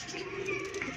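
Sialkoti pigeons give low, soft cooing, a brief throaty murmur under faint background noise.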